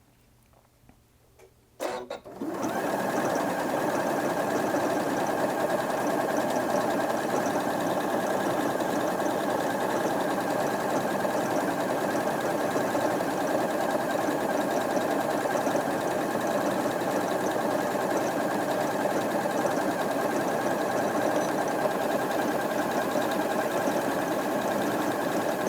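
Janome Atelier 7 Anniversary Edition sewing machine stitching a pattern, starting after a couple of quiet seconds and then running in a steady, even mechanical hum and whir for a long stretch, close and uninterrupted.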